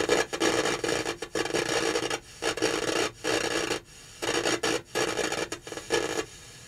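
An electronics Super Probe tester in noise mode puts out loud, harsh hissing static in bursts that cut in and out irregularly, alone with no voices.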